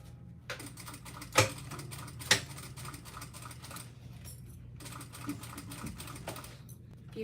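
A sewing machine stitching a fabric Tiny Dancer bag, a fast continuous needle clatter running throughout, with a few sharp clicks and brief pauses in the stitching.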